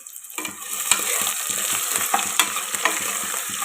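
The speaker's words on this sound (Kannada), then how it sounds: "ತರಕಾರಿ ಏನಾಗುತ್ತೆ ಎಲ್ಲಷ್ಟು ಎಣ್ಣೆಯಲ್ಲಿ ಫ್ರೈ ಮಾಡ್ತೀನಿ ರೀ" Onion, potato and other vegetables fry in oil for a simple pulao, a constant close sizzle punctuated by a steady, rhythmic series of spoon scrapes against the pot.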